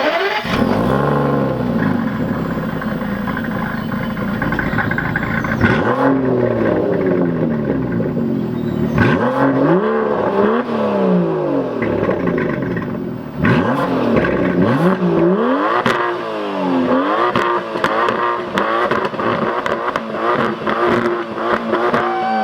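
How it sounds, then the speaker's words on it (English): An Aston Martin DB11 with a 5.2-litre twin-turbo V12 revs hard outside the car, its exhaust rising and falling in repeated loud sweeps, with sharp crackles and pops between the pulls. "That sound, the exhaust note was so sweet."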